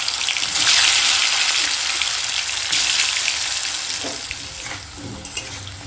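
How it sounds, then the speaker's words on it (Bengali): Potato pieces fry in hot oil in a home kitchen pan, giving a loud, close, continuous sizzle that stays strong throughout and eases slightly toward the end, with no talking. "একইভাবে আলুগুলোও ভেজে নেব"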